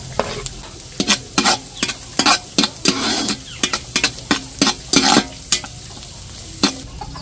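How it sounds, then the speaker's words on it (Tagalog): Garlic and onion sautéing in a pot for a Filipino home-cooked dish, loud sizzling under repeated sharp scraping strokes of a spatula stirring against the pot, close up and with no talk. "Magigisa na po si Seth ng bawang at sibuyas."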